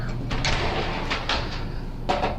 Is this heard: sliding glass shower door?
yes